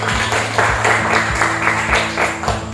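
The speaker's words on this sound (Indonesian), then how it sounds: "Tepuk tangan." High school students in a class clap together in a steady rhythm of roughly two claps a second, fairly loud, over a low electrical hum.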